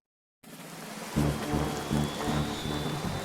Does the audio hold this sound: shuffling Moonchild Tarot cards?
no